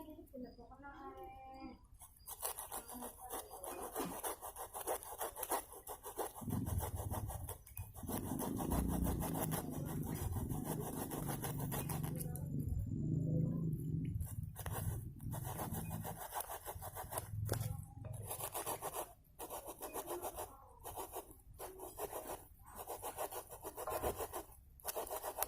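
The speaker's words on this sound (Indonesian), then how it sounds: "langsung saja saya potong nih di sini nih" Hand sawing through the trunk of a banyan (beringin) bonsai after air layering, a steady rasping rhythm of repeated strokes, close and fairly loud, with brief pauses between bursts.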